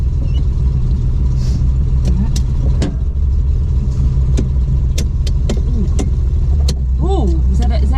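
A home-built Datsun 240Z's engine rumbles steadily as the car drives off, a low constant drone with a few clicks and brief chatter from people inside.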